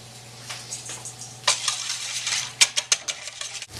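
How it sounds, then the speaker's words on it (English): Eggs being whisked with smoked paprika and a pinch of salt for a Spanish tortilla, giving quick scraping, tapping strokes against a bowl, steady and close, with a few sharper clinks near the end and no talking. "we're just going to whisk that together with a pinch of salt"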